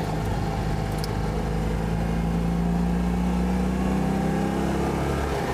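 A Citroën 2CV drives along the motorway, its small engine humming loud and steady with a rising drone and constant road and wind roar, no voices.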